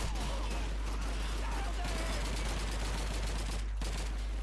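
A Thompson submachine gun fires in rapid bursts within Call of Duty 2, a dense rattling stream of game gunfire with a brief gap, under a constant low hum and with a voice talking over it.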